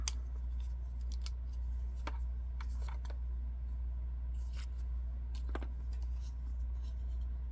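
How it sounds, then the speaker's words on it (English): Scissors snip through chipboard in a few short, crisp cuts, set against a steady low hum of traffic or a motor in the background. "I'm gonna just cut this."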